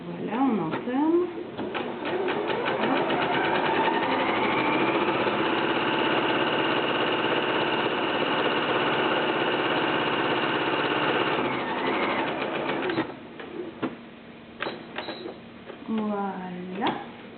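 A sewing machine runs a zigzag stitch along a one-piece fabric mask, giving a steady, close mechanical whir for several seconds before it stops and a person begins speaking.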